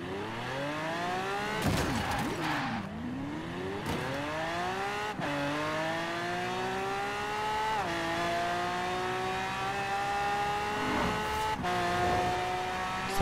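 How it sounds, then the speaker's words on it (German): A Lamborghini engine in the racing video game Forza Horizon 4 revs and climbs through gears, its loud, screaming tone rising repeatedly with sharp drops at each shift, continuous and close with no talk. "Auch wenn ich eigentlich nicht so auf dieses Geschrei stehe von den Lambos."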